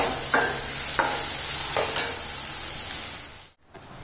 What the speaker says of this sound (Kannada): ಆನಂತರ ಹೆಚ್ಚಿದ ಈರುಳ್ಳಿ ಹಾಗೂ ಕರಿಬೇವನ್ನು ಎಣ್ಣೆಯಲ್ಲಿ ಸರಿಯಾಗಿ ಬಾಡಿಸ್ಕೋಬೇಕು.